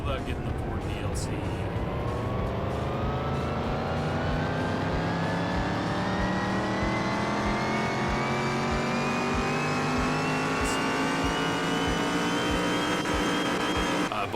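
Heavily modified 1000 hp Ford Mustang Fastback in Car Mechanic Simulator 2021, its engine revving in one long steady climb with rising pitch, loud and continuous with a faint voice underneath.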